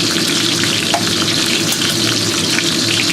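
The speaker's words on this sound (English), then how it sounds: "I've got some chopped garlic, so put about 2 teaspoons in there. So just give this a quick stir fry here." About two teaspoons of chopped garlic stir-fried in a pot for a slow-cooker beef short rib dish, a loud, continuous close sizzle with light stirring and no talking.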